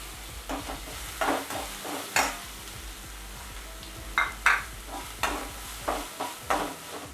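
Ginger, green chilli and onion frying with urad dal for idli upma, with a steady sizzle broken by repeated stirring scrapes in uneven bursts, close and moderately loud, no talking.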